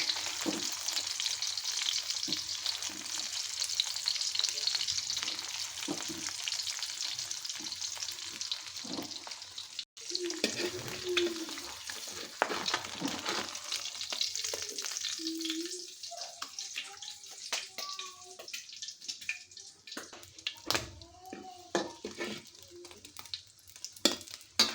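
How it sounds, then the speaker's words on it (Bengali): Rotis fry one by one in a little oil, a steady sizzle with occasional stirring and scraping clicks, close and fairly quiet, with no voices. "আমি এখন এক এক করে রুটিগুলো একটু হালকা তেল দিয়ে ভাজতে নেব"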